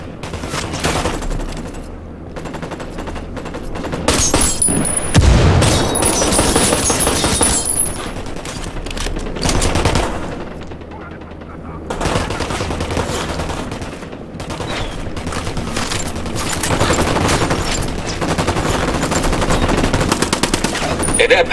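Sustained automatic gunfire and rifle volleys in Ghost Recon Wildlands, loud rapid bursts rattling almost continuously through a firefight, with brief lulls between stretches of shooting.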